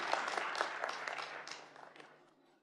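A crowd at a ministerial conference session claps and applauds for the organizers, dense at first and then tapering off into scattered claps.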